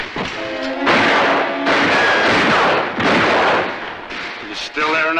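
Rapid bursts of heavy gunfire in a film scene, loud repeated cracking volleys in several clusters with short pauses between, close and dense, with brief voices between the shots.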